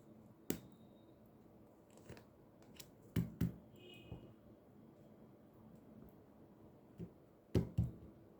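Tarot cards being shuffled by hand, heard as a few sharp, close flicks and snaps scattered among quiet pauses, with no talking.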